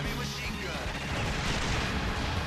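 Grenade blasts from the run-and-gun arcade game Metal Slug, a dense, loud burst of booming, crackling explosions that fills the whole stretch with continuous roaring noise.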